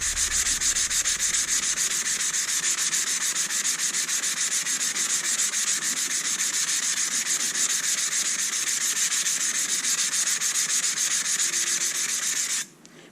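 Worksharp waterstone being flattened on a Harbor Freight diamond hone block, a steady, close, continuous gritty rubbing and scraping that runs unbroken for about twelve seconds before stopping abruptly.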